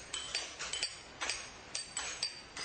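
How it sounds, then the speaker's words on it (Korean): A steel chisel struck with a hammer cuts stone for traditional restoration work on a historic gate, giving faint, evenly spaced metallic clinks, about eight sharp taps at a steady working rhythm, heard at a distance without talk. "복원 현장에 석재를 자르기 위해 기계가 아닌 정과 망치가 등장했다"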